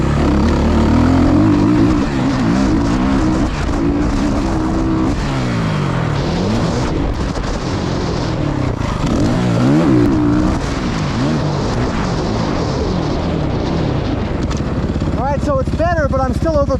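Suzuki RMZ450 motocross bike fitted with upgraded KYB suspension, ridden on a dirt track, its loud engine revving and falling with gear changes throughout, close and continuous, with a voice heard under it.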